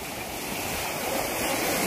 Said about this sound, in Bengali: জলে জল কেমন ঢেউ মারছে দেখো